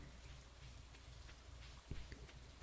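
Steady rain patters throughout a rainy day in the farming game Stardew Valley, a soft constant wash of drops with a brief louder splash near the end, no talking.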